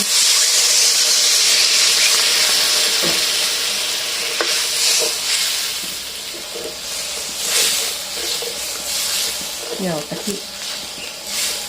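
Red chili paste frying in coconut milk for a Thai pickled bamboo shoot curry with pork gives a steady loud sizzle and hiss, with occasional stirring scrapes and clinks rising over it.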